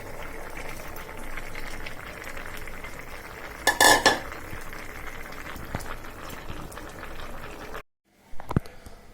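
Fish heads sautéed with radish and bean vegetables in a pan, a steady close sizzle and scrape of stirring with a brief louder clatter midway, ending in a sudden drop then a few faint knocks.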